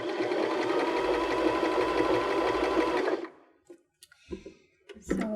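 A Baby Lock BL9 sewing machine runs a narrow zigzag stitch, a steady, close mechanical whir for about three seconds before stopping, followed by a few faint clicks and handling noises.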